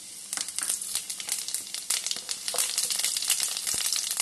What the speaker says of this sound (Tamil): எண்ணெய் காஞ்சிடுச்சு. இப்போ சோம்பை போடுவோம்.